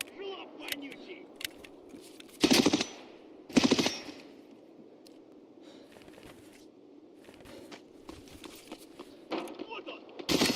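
Bursts of gunfire in a game match, with two loud volleys early on and more scattered shots later, heard among ambient noise and players talking.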